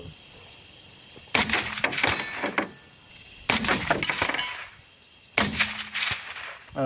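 Three sharp rifle shots fired at night with tracer ammunition, each a loud crack followed by a rolling echo, spaced about two seconds apart outdoors with no talking.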